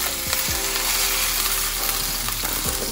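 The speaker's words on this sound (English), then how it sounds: "Go ahead and stir this, get it some extra flavor" Guajillo chilies fry in a pan for birria tacos with a loud, steady sizzle, while a utensil scrapes and stirs them in a few short strokes close by.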